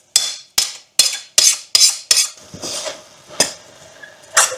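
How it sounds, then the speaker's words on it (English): Dry spices warming in a hot pan are stirred, producing a run of about nine sharp metallic knocks and scrapes of a utensil against the pan, close and loud, with short pauses between strokes. "Until then you just keep stirring it."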